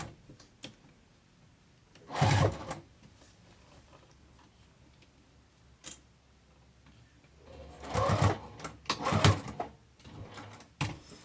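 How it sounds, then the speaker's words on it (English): A sewing machine back stitching a Bristol zipper pouch, running in two short bursts with a quiet pause between them, close by and fairly loud. "we're back stitching"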